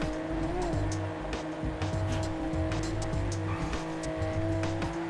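Race car in GTA V accelerating hard, a continuous loud engine drone with repeated rising gear-shift surges and tire squeal, no speech.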